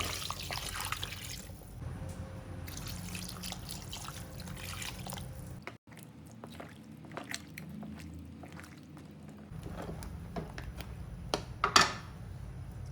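Water trickles and splashes quietly into country chicken curry masala in a pot, soft liquid pouring and dripping sounds with a brief pause midway and a few clinks near the end.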